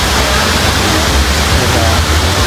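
Clear spring water at Bato Spring in Laguna rushes steadily in a dense, unbroken wash, close and loud, with no voices over it.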